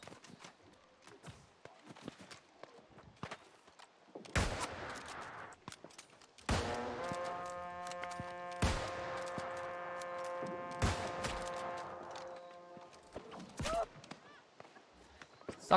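Gunshots in the online game New World during a server battle: scattered sharp cracks spaced across the clip, several loud reports, with a sustained ringing tonal effect in the middle and quieter background combat noise.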